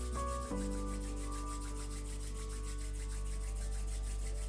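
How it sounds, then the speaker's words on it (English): Palms rubbing together in a quiet room as a warm-up before energy healing, a steady soft swishing friction that repeats in a fast back-and-forth rhythm over a low constant hum. "So we warm up our hands and then rub them together."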